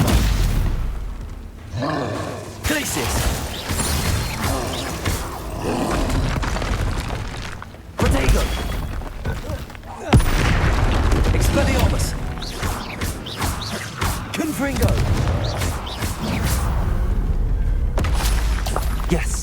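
Spell explosions from Confringo cast in the video game Hogwarts Legacy, loud booming blasts and crashes recurring through the stretch alongside shouted spell names and game effects.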